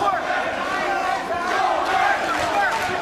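A boxing arena crowd roars for Mancunian fighter Michael Gomez in his bout against Johanesson, sombrero-wearing fans among them. The roar holds steady and loud for the whole stretch, with blurred voices and shouts mixed through it.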